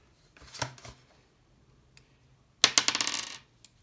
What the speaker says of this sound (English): roll the dice